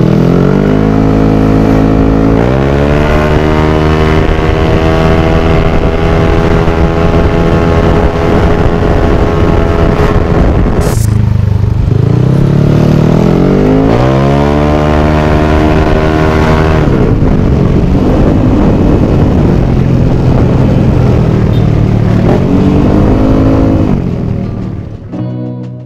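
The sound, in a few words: scooter engine revving at full throttle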